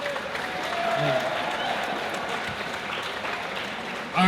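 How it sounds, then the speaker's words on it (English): A career-day audience claps in a broad, even round of applause that holds steady throughout, with faint voices mixed in beneath it. "give Greg a big round of applause"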